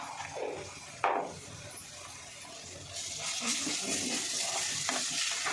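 Chicken with turmeric being stirred and fried in a pan, a steady sizzle running throughout with scraping stirs and a sharp clatter of the utensil early on, growing slightly louder midway; no voices.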